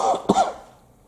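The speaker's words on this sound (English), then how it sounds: "that's a bad cough" A person close by lets out a short, harsh cough, two rough bursts that fade quickly into quiet.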